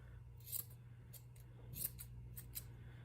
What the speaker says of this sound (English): So that side's a bit long. I'm gonna cut it.